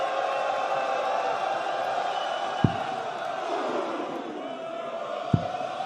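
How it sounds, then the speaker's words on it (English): A darts crowd at the Dutch Darts Championship roars in a sustained, broad wash of cheering and noise, with two sharp thuds breaking through the steady din. "The crowd makes some noise."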